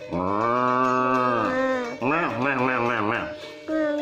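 A human voice imitates a cow or water buffalo with a long drawn-out low, then a few shorter wavering calls and a brief final one.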